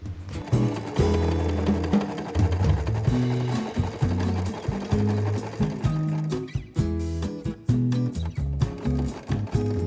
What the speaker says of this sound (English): On the right side of the skirt, we're going to sew right inside the side seam so we don't see any stitches.